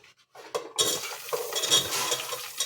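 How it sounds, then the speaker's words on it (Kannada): Onions fry in hot oil in a pan for vegetable pulav; after a near-silent start, a close sizzle swells and a spoon scrapes and clinks against the pan as they are stirred. "ಅದಕ್ಕೆ ಆನಿಯನ್ ಹಾಕ್ಕೊಳ್ಳೋಣ ಫ್ರೈ ಮಾಡೋದಕ್ಕೆ ಈರುಳ್ಳಿ ಹಾಕ್ಕೊಳ್ತಾ ಇದ್ದೀವಿ"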